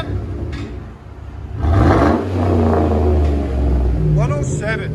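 Revving a 2011 Chevy Tahoe 5.3L V8 through straight pipes: a deep idle rumble jumps into a loud, close roar, falls back and climbs again, while a person speaks near the end.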